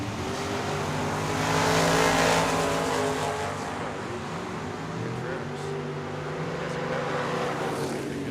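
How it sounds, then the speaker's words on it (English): A 1986 C4 Corvette runs at Tucson Dragway, a loud roaring engine with rising and falling revs heard from trackside, swelling briefly early on and then holding a steady drone. "Mike McBrayer, the Corvette, 670. That's a 1960. I'm sorry, 1986 C4 Corvette"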